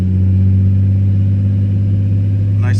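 A 1998 Nissan Skyline R34 25GT-T engine is held steady at around 2,000 RPM, its loud, even hum close and unbroken, with a faint short rattle near the end.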